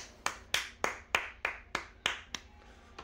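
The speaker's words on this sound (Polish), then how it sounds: "aż się zatrzymam i zabiję sobie sam brawa." One person clapping alone, eight sharp, evenly spaced claps at a brisk steady rhythm, close and fairly quiet, with no talking.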